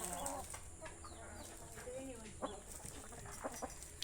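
Backyard chickens clucking at feeding time, scattered short calls at moderate distance amid light background noise.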